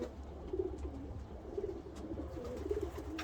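Pigeons cooing close by in soft, repeated throaty coos, about three calls spaced roughly a second apart over low background rumble.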